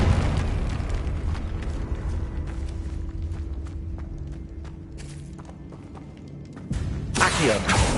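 In Hogwarts Legacy, a Confringo blasting spell bursts into a loud explosion near the end, after a stretch of quieter footsteps and rumbling game ambience.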